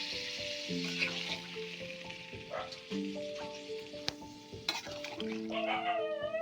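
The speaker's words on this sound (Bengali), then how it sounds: "এবার আমি দিয়ে দেবো জল।" Water poured into a pan of frying potato, pointed gourd and shrimp curry brings up a continuous close sizzle and hiss, with sustained tonal sounds running in the background.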